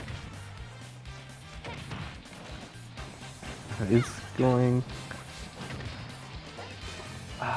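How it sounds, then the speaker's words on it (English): Bayonetta's up smash attacks connecting in a Super Smash Bros. league match, two sharp impact hits near the middle standing out over game sounds while commentators talk throughout. "Bayonetta really connecting with those up smashes"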